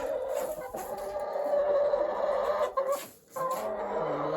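Wyandotte chickens cluck and murmur continuously inside a coop, with a sustained, fairly loud chorus of close hen calls and no speech.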